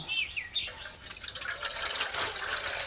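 Water splashing and trickling over grated raw potato as it is rinsed by hand for homemade cornflour, a steady close wet swish and drip with no talking.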